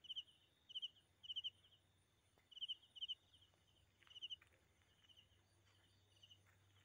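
Several crickets chirp in short, rapid pulse bursts, fairly faint and steady, with a low hum and occasional soft rustles in the quiet night at 2 a.m.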